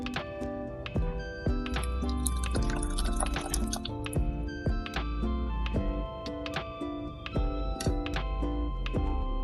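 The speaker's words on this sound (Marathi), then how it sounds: "पातेल्यावर गाळण ठेवून त्याच्यावर एक सुती कपडा टाकायचा आहे आणि त्याच्यावर हे गाळून घ्यायचं आहे" Curdled milk whey drips through a cotton cloth laid over a strainer on a pot, making a rapid, irregular patter of close drips and small splashes.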